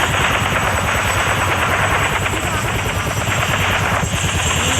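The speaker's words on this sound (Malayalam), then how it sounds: "ഹെലികോപ്റ്റർ" Helicopter in a Roblox prison escape game, a loud, steady rotor chop with fast rhythmic thumping that carries on without a break, with no talk over it.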